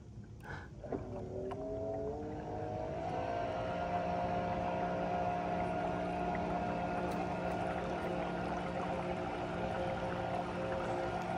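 A small motor drives a kayak across water, a steady close drone with a constant hum under light water noise and no talk.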